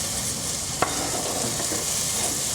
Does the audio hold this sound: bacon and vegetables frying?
yes